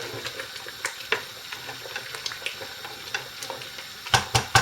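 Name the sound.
pot of liquid boiling vigorously while being stirred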